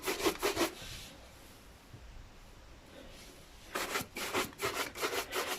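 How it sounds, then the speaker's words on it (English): Cloth rubbing polish onto LLOYD leather dress shoes to a mirror shine: quick rhythmic scrubbing strokes in a burst at the start, a quiet pause, then another run of brisk rubbing close up, with no talking. "you have to keep on rubbing till you get a mirror-like shine"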